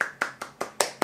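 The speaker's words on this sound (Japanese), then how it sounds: "すごい、拍手、" A single person's hands clap six times in a quick, steady rhythm, close and moderately loud, with no talking over it.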